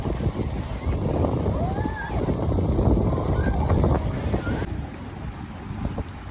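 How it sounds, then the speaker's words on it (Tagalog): Strong, cold wind at Zabeel Park, Dubai, roars steadily, buffeting the microphone in a constant heavy rush, with faint whistling tones and no clear speech. "Sobrang lamig na at mahangin."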